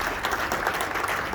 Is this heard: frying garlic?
no